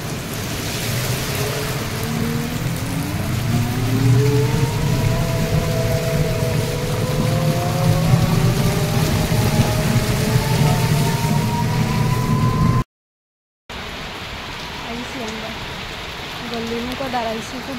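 Heavy rain pours steadily and loudly close by, a dense continuous wash running under people talking, with the downpour continuing after a short break in the sound.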